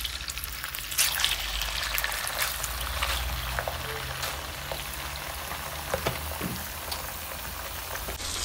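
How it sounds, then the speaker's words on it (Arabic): Chicken liver, about three quarters of a kilo cut into large pieces, sizzling in a hot frying pan, a dense steady crackle with a louder burst early on and small pops throughout. "اهم شي ننزلها على مقلاية سخنة"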